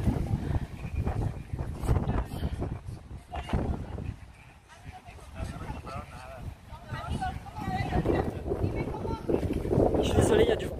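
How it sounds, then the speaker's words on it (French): Gusty wind buffets the microphone with low rumbling bursts while someone speaks French over it outdoors. "Je suis désolée, il y a du vent."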